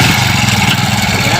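A motorbike engine runs close by at a loud, steady idle with a low, throbbing hum and no voices over it.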